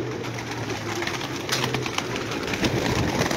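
Pigeons coo on a rooftop in low repeated murmurs amid a busy outdoor background, with a brief burst of broadband noise midway.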